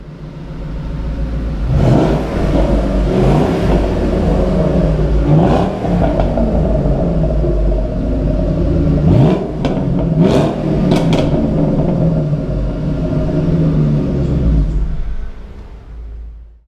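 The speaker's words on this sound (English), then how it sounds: "Let's go ahead and start the car up." A 2014 Ford Mustang Shelby GT500 with about 4,000 miles starts up and idles with a deep, close, steady rumble, broken by several sharp revs to higher pitch before it settles and cuts off.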